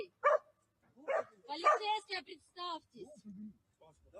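A dog on a city street in Minsk, Belarus, lets out several short, fairly faint barks and yelps in irregular bursts, with voices nearby.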